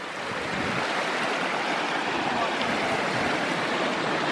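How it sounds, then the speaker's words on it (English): A freshwater spring runoff stream flows steadily in a snowy mountain setting, a continuous broadband rush of water close by with no pauses across the stretch. "Freshwater spring runoff right there."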